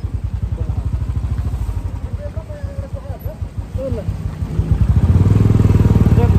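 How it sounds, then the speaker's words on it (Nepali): Motorcycles setting out on a mountain road near Lo Manthang in Upper Mustang, a close engine thumping in a steady rapid beat that grows louder and fuller toward the end, with a voice speaking briefly over it. "5वटा बाइकहरू चाहिँ हाम्रो निस्किसकेको छ।"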